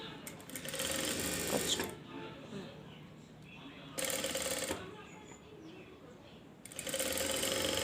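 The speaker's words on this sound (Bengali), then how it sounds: "এবার গলার পট্টিটার সাইডটা যে এই সাইডটা আমরা পুরোটা সেলাই করে আটকিয়ে নেব।" A sewing machine stitches a blouse neck strip in three close, loud bursts separated by pauses, with someone speaking briefly and faint chirps between runs.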